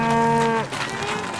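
Cattle moo loudly and close by, one long drawn-out low call that slides down in pitch and then blends into a second rougher moo.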